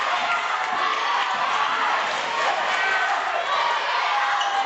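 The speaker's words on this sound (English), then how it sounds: "Crowd is loud. Yeah, it's such a small arena," A crowd cheers and shouts nonstop at a high school basketball season opener in a small arena, the loud wash of voices echoing harshly off the walls. A commentator's voice sits under the din.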